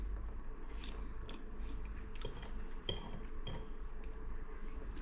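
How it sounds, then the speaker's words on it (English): Someone bites into crunchy cheese-flavored chips smothered in gravy, with several faint, close crunching bites scattered over a few seconds alongside light clinks of cutlery in a quiet room. "Crunchy chips with an awesome taste of cheese."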